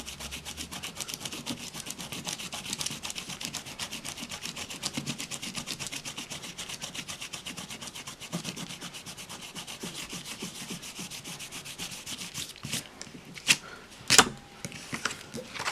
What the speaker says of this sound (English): This is now totally dried and I'll rub off where the